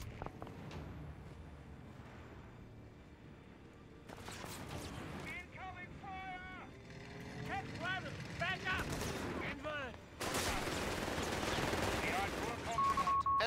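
An MG-42 machine gun crew fires in a war video game, with rapid bursts breaking out among other battle noise and game voices calling out across the clip.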